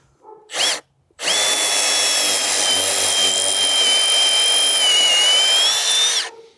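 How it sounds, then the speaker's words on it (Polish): A Milwaukee cordless drill gives a short burst, pauses, then runs loud and steady for about five seconds before stopping, with no talk over it. "mieliśmy wiercić, to coś wywiercimy"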